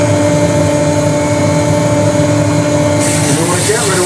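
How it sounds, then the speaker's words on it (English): A rotary sander runs against wood on a wood-turning lathe with a loud, steady whirring hum that holds level throughout and turns brighter and hissier near the end. "we want to go to 180 on the rotary sander"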